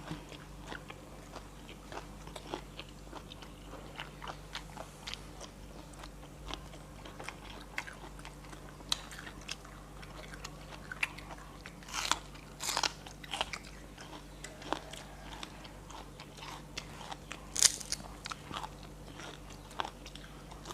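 Crunchy fried dried stingray being bitten and chewed close up, with repeated sharp crisp crunches scattered irregularly over a faint steady background hum.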